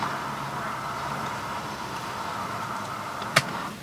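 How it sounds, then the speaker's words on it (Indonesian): Street ambience sampled as a bed for a lo-fi track: a steady, even wash of distant traffic-like noise with one sharp click near the end. "Oke, itu tadi suara jalan"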